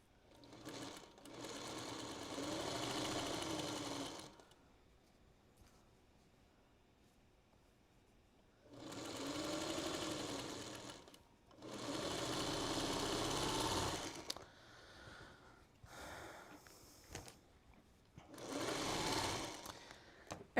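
A sewing machine stitches quilt blocks in a quiet sewing room. It runs in several close, steady bursts of a few seconds each, separated by pauses and a few short stops and starts.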